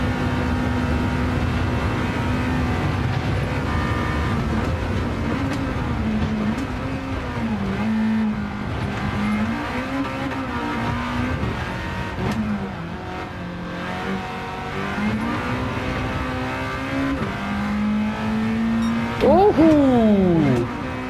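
A race car in Gran Turismo 7 climbs an uphill stretch under steady acceleration, the engine droning and rising in pitch through several gear changes, ending in a sharp rapid rev sweep, with a voice talking over it.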